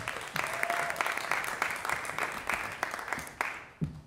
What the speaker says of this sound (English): How about a little applause?